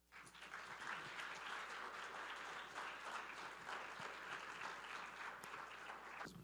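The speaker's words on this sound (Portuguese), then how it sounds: "nós queremos chamar ao palco, com nossos aplausos, o nosso convidado Sequim" An audience at an academic evening event applauds to welcome a guest onto the stage, a steady, even wave of clapping that swells in and holds for several seconds before cutting off.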